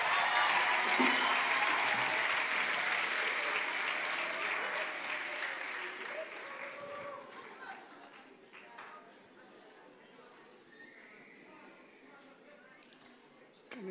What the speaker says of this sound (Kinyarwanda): komera data amashyi umushimira